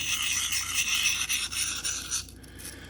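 A knife blade scraped along a Sharpal field sharpener in steady close rasping strokes that run almost continuously, then ease off near the end.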